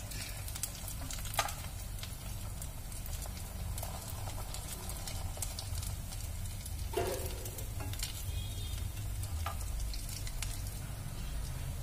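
Bread rolls frying in hot oil in a home kitchen, giving a continuous moderate crackling sizzle with occasional sharper pops and a few clinks, no talking heard.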